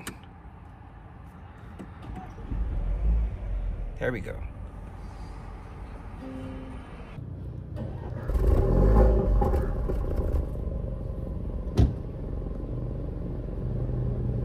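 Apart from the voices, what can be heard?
2024 Land Rover Defender 110 engine push-button start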